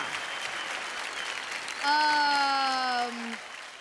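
Steady applause from an audience cheering two of the country's daughters, with a bright sustained electronic tone rising over the clapping partway through.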